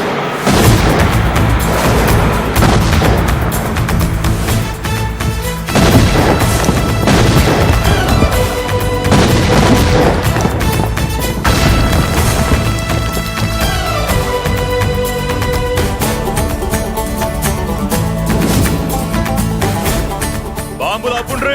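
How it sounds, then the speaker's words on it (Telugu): Bombs explode in a Telugu comedy film scene: heavy repeated booms and crashes roll through about twenty seconds, blended with a loud musical score. "బాంబులు ఆపుండ్రీ."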